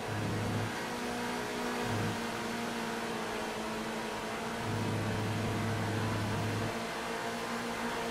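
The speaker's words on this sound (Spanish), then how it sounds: "Ese carro suena duro, mi loco." A sports car in a GTA 5 online race revs and holds a steady engine drone, its pitch stepping up and down as it accelerates, heard alone without talk.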